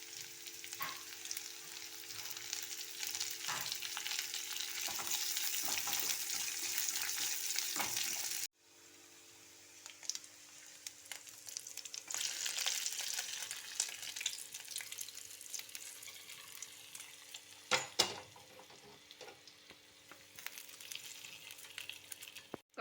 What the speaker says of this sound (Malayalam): മുളകും കറിവേപ്പില ഇട്ട് കൊടുക്കാം.